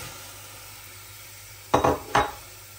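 Chicken pieces hit a hot pot of onions for a chickpea-and-chicken rice dish, giving two quick, loud bursts of sizzling and clatter against a quiet kitchen background.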